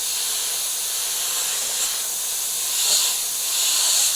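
An airbrush sprays paint along the edge of a template, a continuous soft hiss with slight swells in pressure, close and fairly quiet.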